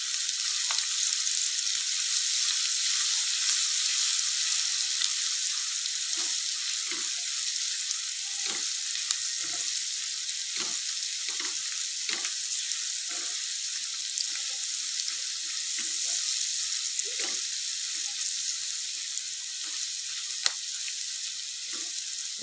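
Ginger paste and turmeric frying in oil for an egg and spring onion curry, a steady crackling sizzle with scattered low stirring scrapes throughout.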